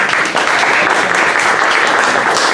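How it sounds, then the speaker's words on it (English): Audience applause at a Public Service Commission candidacy announcement event in Atlanta: a dense, steady wash of clapping that fills the whole stretch, loud and close, with no talk over it. "So, round of applause for Nathan and David."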